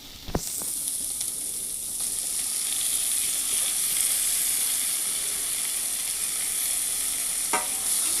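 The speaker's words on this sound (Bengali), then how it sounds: "মাংসটা কিন্তু সামান্য পরিমাণ তেল দিয়ে বানাচ্ছি এবার নাড়াচাড়া করে নেব" Chicken frying in a small amount of oil for a tomato chicken dish, with a steady bright sizzle and hiss, a few stirring knocks near the start and end, close and without talk.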